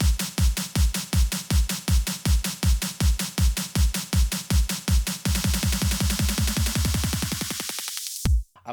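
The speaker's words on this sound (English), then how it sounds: "together, the kick drum and the snare drum in the build-up sound like this" Remix build-up with kick drum and snare drum hitting in a steady driving pattern that speeds into a rapid roll, then cuts abruptly near the end; loud, upfront electronic drums with no talking.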